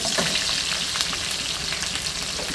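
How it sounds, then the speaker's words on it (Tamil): Chopped shallots sauté in oil in a pan for a vegetarian eggplant dish, giving a dense, steady, close sizzle throughout. "சின்ன வெங்காயம் கட் பண்ணி வச்சுருந்தோம்ல, அதை போட்டு நல்லா ஒரு வணக்கு"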